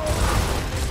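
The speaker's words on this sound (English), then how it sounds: "I shot him fucking 8 times." Gears of War gunfire, a dense, continuous rattling burst of rapid shots, loud and close, in a short stretch of sustained fire.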